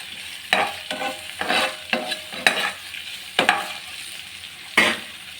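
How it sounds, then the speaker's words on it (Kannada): Tomatoes are stirred while deep frying in a pan, with bursts of sizzling and scraping strokes coming in uneven pulses, close and fairly loud, with no talking. "ಮತ್ತು ಟೊಮೊಟೊ ಹಾಕ್ಕೊಳ್ಳಿ. ಇದು ಕೂಡ ಸ್ವಲ್ಪ ಡೀಪ್ ಫ್ರೈ ಮಾಡಿ."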